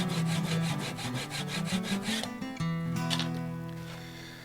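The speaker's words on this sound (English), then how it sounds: "I got that little nub removed, and I whittled that away with the spoon carving knife" Spoon carving knife whittling a small nub of Rainbow Tulip Poplar on a turned hollowform, a quick series of close, rhythmic scraping strokes followed by a sustained ringing tone fading out.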